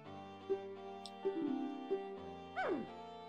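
Cartoonish dog barks and yips from a dog race in a video game, a few separate short barks with a rising whine near the end over steady game music.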